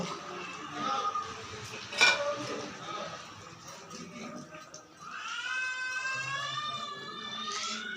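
Fried fish pieces going into a simmering potato and fish curry pot, with metal pot and utensil clatter, a sharp clank near the middle, and a voice talking over parts of it.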